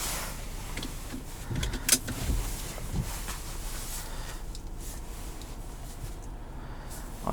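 Panoramic sunroof on a 2021 Volkswagen Tiguan SEL motoring open inside the cabin, a faint steady electric whir running for several seconds at low level with a couple of brief clicks.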